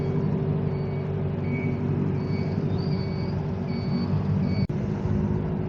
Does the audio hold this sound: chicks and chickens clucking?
no